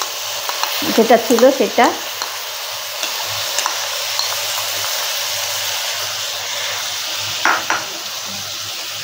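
Taro stolons fry in a pan with mustard paste, giving a low sizzle under a few spoken words near the start and a brief stir or scrape later on.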